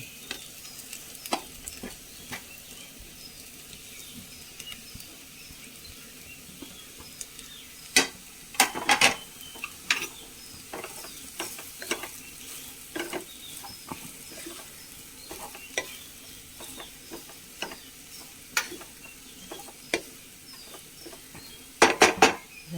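Leftover string hoppers (noolputtu) are stir-fried in a pan for a biryani-style dish: a low frying sizzle runs under scattered metal spatula clinks and scrapes, with busier clusters of knocks toward the end.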